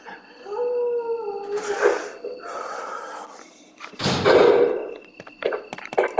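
A dog in the Resident Evil video game howls with long, rising tones, followed by loud thumps and a harsh snarling burst, then scattered short impacts.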